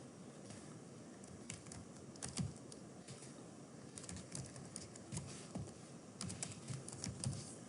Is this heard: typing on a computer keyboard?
yes